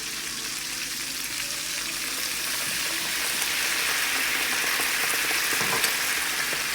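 Wine poured into a hot pan of rosemary garlic NY strip steaks sets off a loud, steady, hissing sizzle that swells slightly and carries on without interruption.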